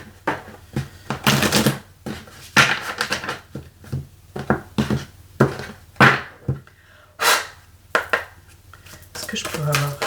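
A tarot card deck being reshuffled by hand, close up, giving a run of crisp, irregular riffling and slapping bursts with short pauses between them.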